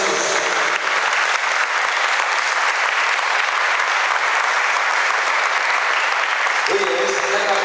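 Dense, continuous applause fills a church congregation for several seconds, even and close, with a voice breaking in near the end.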